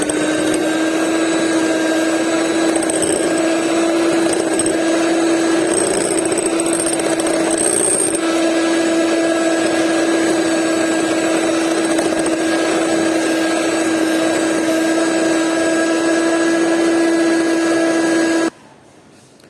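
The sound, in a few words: electric mixer blending butter, sugar and flour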